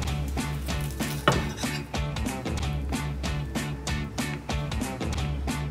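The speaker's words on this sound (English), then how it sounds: "A little small butter knife here." A small butter knife cuts salmon on a plate served with brown rice and vegetables, giving repeated close clinks and scrapes of metal on the plate over a steady low hum.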